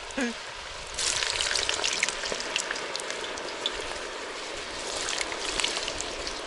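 Chicken and french fries frying in hot oil, cooked outdoors in a village, give a steady close crackling sizzle that swells after the first second and keeps up with dense popping spatter.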